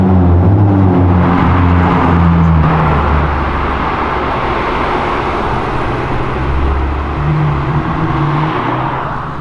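Ferrari engine roaring loud and close, a deep sustained growl that swells and then eases into a steady rumble with a rising whir over nearly ten seconds.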